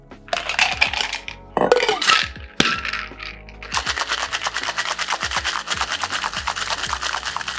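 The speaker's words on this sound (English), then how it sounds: "I'm gonna give it a little bit of a harder shake so I can tear apart that basil" Basil cocktail shaken hard in a cocktail shaker: a few loose rattles and pauses give way to fast, steady rhythmic clattering of ice against metal, close and bright, continuing to the end.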